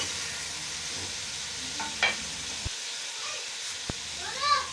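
Chicken korma meat frying in a pot with browned ginger and garlic, giving a steady low sizzle and hiss throughout with a few faint stirring clinks, fairly quiet and without talk.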